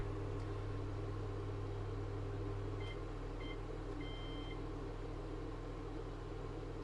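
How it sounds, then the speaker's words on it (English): A microwave oven hums steadily with a low electrical drone, and a few faint beeps sound in the middle; no one speaks. "So I'm running the microwave"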